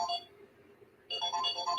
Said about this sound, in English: That's a phone call.